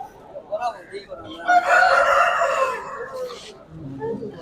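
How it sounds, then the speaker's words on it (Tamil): A rooster crows once, loud and drawn out, with quieter clucks and birds around it before and after, at a Sunday pet market on Broadway in Chennai. "இங்கே பார்த்தோன்னா நிறைய சேவல் இருக்கும்."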